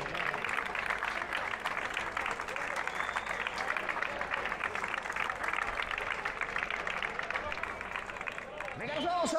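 Steady applause from an outdoor crowd at a trail race trophy ceremony, continuous clapping with murmured voices underneath that swells slightly near the end.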